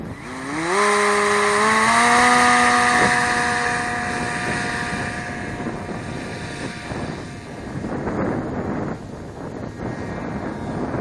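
Electric motor of an RC AeroSport 103 ultralight model plane fitted with a 16.8 propeller, a loud whining buzz rising in pitch as it spins up, then settling into a steady drone with wind gusting against the microphone.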